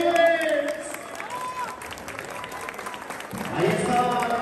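At a traditional P'urepecha procession for San Judas, the crowd applauds in scattered bursts while a voice and other tonal sounds carry over the noise, with the clapping swelling again toward the end.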